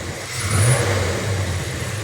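A 1966 Chevelle with a 396 engine that has a slight shake revs under throttle. It gives a loud, close, throaty surge that swells and then settles into a steady rumble, with no voices.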